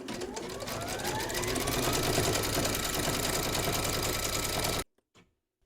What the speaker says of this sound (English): we're going to pop our hoop into our machine and stitch round number 7